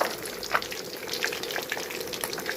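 Fish sizzles in hot oil in a simple home kitchen, a steady crackling hiss with scattered sharp pops, fairly close and moderately loud, with no talking.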